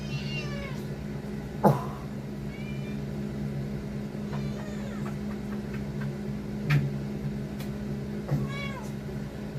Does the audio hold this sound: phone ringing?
no